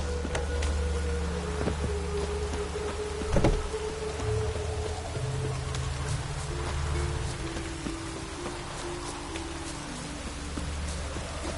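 Rain falling in the video game The Witcher 3, a steady close patter across the whole stretch with a low rumble underneath and one brief knock.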